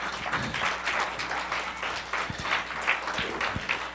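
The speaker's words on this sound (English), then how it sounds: "Why don't we give God one more hand clap of praise in this house?" A church congregation claps hands in praise, a dense, steady wash of many hands with a few louder nearby claps, fairly close and continuous.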